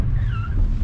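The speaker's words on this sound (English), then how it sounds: "7 Series slips its front wheels." The front wheels of a BMW E65 745i 7 Series slip, giving a short rising-and-falling tire squeal over a loud, deep engine rumble, heard close up.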